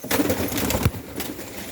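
A homing pigeon bursts up with a quick flurry of wing flaps close by, followed by softer fluttering and outdoor background noise.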